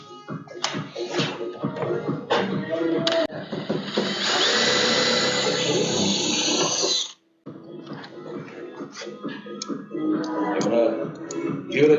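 A power drill runs during an engine cowl install on a Sling TSi light aircraft with a 916iS engine: short bursts and clicks, then one steady whirring run of several seconds, then more short bursts, close and loud.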